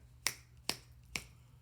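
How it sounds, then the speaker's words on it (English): Three crisp finger snaps, close and clear, evenly spaced about half a second apart against a quiet room, during a classroom listening game about the senses. "Snapping."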